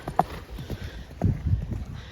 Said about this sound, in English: There you go, someone's riding his horse.